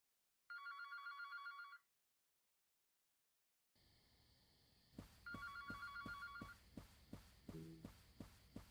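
Telephone ringing in a horror video game, a short electronic ring burst, then after a silent gap another ring over a low ambient drone with rhythmic heartbeat-like thumps.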